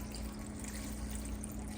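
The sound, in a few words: pouring water into a pot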